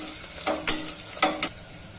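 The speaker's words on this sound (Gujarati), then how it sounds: "આપણું બટેકું સરસ ચડવા માંડ્યું છે" Potatoes and ridge gourd fry in a pan while a spatula stirs them. Several close, crisp scraping strokes rise over a steady sizzling hiss.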